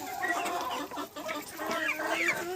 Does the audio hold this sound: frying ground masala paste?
no